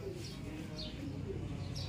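A racing pigeon arriving home at a loft coos softly in a few short calls, faint against low outdoor rumble and background noise.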